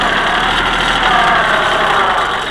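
A small 18-horsepower Ford 1210 tractor engine runs loudly and close, a steady mechanical drone with a rough chugging texture throughout.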